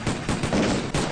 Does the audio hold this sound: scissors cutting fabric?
no